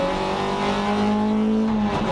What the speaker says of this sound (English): drop the clutch, get a nice launch trying to get the power down without any wheel spin, and snap second gear